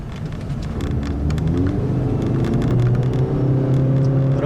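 A 2013 Ford Fusion Hybrid with a 2-liter 4-cylinder engine, heard from inside the cabin while driving as a low, steady rumble that swells slightly as the engine pulls, alone and fairly even.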